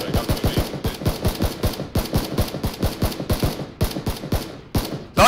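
Rapid rifle fire in PUBG, a close series of sharp regular shots in quick bursts with brief pauses, ending in a loud final blast.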